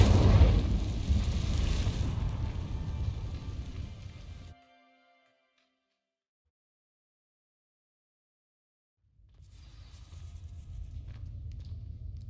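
A burst of crackling, roaring fire from the Incendio spell in Hogwarts Legacy, loud and broad for several seconds, then a long silence before the roar returns.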